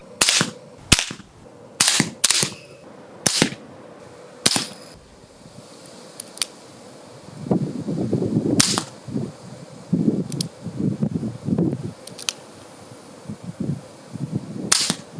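A series of sharp, muffled pops from a suppressed OTs-38 revolver, fired in irregular bursts with brief pauses, fairly close and clean with no voices.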